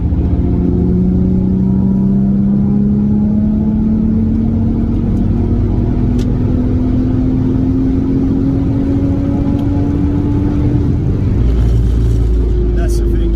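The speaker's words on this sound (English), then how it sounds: "the exhaust makes a lot more noise now than it used to." A B5 Audi RS4 Avant wagon drives under power, engine and exhaust droning loudly with a slowly rising pitch as it accelerates, then tapering off, with faint voices inside the cabin.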